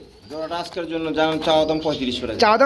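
Pigeons coo in soft, rolling calls throughout at a pigeon sale, close by and fairly loud, with overlapping voices of several birds.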